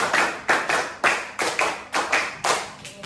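Hands clap out a rhythmic classroom pattern, repeated twice in groups of five: sharp, close claps in an even beat with short pauses between the groups.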